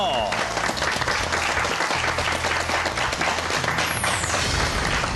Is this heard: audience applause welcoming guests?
yes